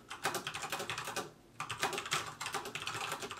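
Typing on a mechanical gaming keyboard with a metal build, a fast, close clatter of key presses that breaks off briefly midway and then resumes just as rapidly.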